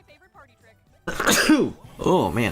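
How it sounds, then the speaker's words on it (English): Preceded by a quiet stretch, a person lets out a loud sudden sneeze, followed by a second burst and spoken words, close and abrupt. "Sorry to sneeze all over y'all"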